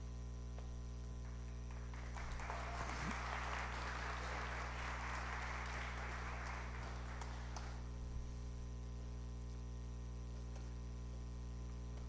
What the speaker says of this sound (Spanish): Esta es la primera vez que me reciben con un aplauso antes de que pase.